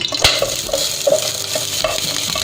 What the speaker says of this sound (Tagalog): 1 tablespoon of sesame oil. Then let's put the